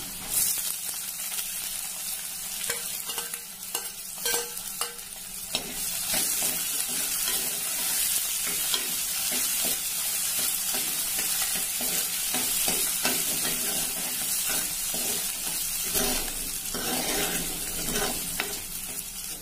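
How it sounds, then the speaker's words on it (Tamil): Chopped onion and green chilli frying in a pan for a Tamil sundakkai kulambu, a steady loud sizzle with scraping stirs and clinks running throughout, close up. "வெங்காயம், பச்சை மிளகாய் போட்டுக்கலாம்."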